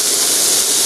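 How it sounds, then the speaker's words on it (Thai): Steady, dense hiss of olive oil sizzling in a hot pan, close and continuous with no talking. "ถ้าร้อนแล้วผมลงน้ำมันนะครับผมใช้น้ำมันมะกอก"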